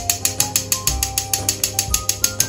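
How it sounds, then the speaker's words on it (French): Bitter cocoa powder is sifted through a sieve to finish a tiramisu, giving a close, steady run of crisp rhythmic clicks at about four per second with no talking. "nous allons mettre la poudre de cacao amer"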